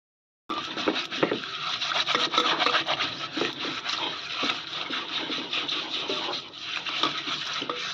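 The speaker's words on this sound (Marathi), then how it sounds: "तर आता आपण हे छान घासून घेऊया." A new unglazed clay pot is scrubbed with flour, a steady close abrasive rubbing with rhythmic strokes that runs continuously after a brief silent start, no voices.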